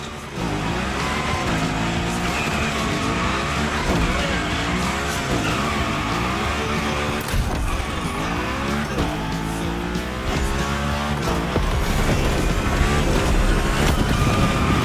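Car sliding and drifting through a gymkhana course in the racing game The Crew Motorfest, with a continuous loud engine roar, revving and shifting, and repeated tire squeals as the car slides, steady and close throughout.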